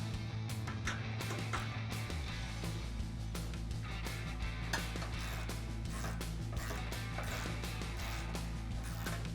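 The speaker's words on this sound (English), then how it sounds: "we can go ahead and tighten them down with a 17mm wrench and a 16mm socket" A winch is bolted to a Jeep Wrangler JL front bumper with a 17mm wrench and 16mm socket, steady mechanical ratcheting and clicking running throughout, close and moderately loud with no speech.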